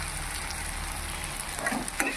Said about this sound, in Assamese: এতিয়া এইখিনি অলপমান ভাজি ল'ম।